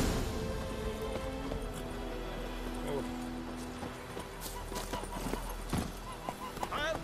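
Roach the horse galloping in The Witcher 3, rapid hoofbeats under game music and effects, with a short whinny and a voice talking over it.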